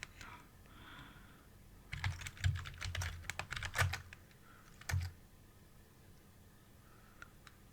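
A computer keyboard clatters as a login password is typed on an x86 cluster machine: bursts of close keystrokes, briefly paused, then a final few taps over a quiet room hum.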